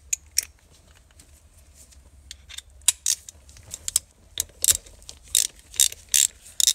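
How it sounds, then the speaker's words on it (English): Shifter bolts being loosened on a 1983 Mazda RX-7 with an aluminum housing: a series of sharp metallic ratchet clicks in irregular bursts, growing denser and louder toward the end, with no talking. "You unbolt these 2 and the shifter will come right out."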